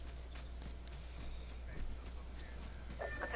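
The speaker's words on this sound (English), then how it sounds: "I hear footsteps." Footsteps in the Apex Legends video game come as a quiet run of rhythmic, muffled thuds, faint under steady game ambience.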